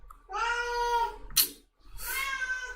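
Two drawn-out cat meows, close and clear, separated by a brief sharp rustle and a short pause.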